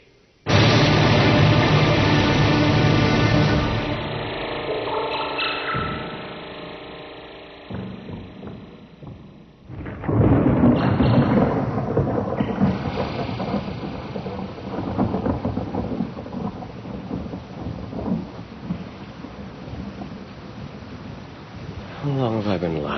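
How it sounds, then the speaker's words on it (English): A radio-drama thunderstorm effect: heavy rain pours continuously while thunder crashes and rumbles loudly, with a second big clap breaking in midway and rolling on under the downpour. "listening to the rain?"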